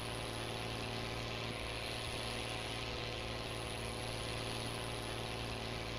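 A truck engine drones steadily at full throttle while climbing uphill in the Farming Simulator video game, hauling a 30-metre double trailer loaded with 125,000 litres of peanuts; a constant unbroken roar with no talk.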